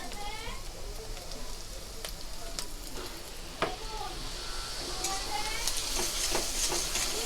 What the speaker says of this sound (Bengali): এবার আমি রসুন কুচি আদা কুচিটাকে দিয়ে ভালো করে ভেজে নিচ্ছি